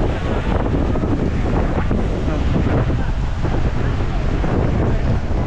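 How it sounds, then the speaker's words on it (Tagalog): Heavy sea surf churns and crashes nonstop at a beach, mixed with loud wind buffeting the microphone in a constant roaring wash. "malakas yung alon."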